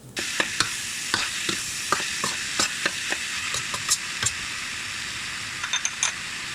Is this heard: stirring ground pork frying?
yes